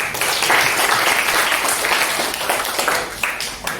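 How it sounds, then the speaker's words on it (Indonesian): A classroom of students applauding during a marketing lecture, a fairly loud, dense burst of clapping that holds steady and then eases slightly toward the end. "Oke, terus beri tepuk tangan."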